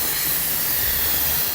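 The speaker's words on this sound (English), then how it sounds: "we're gonna turn it over to a quick release." An Instant Pot electric pressure cooker vents on quick pressure release, giving a loud, steady blast of hissing steam that runs unbroken and close throughout.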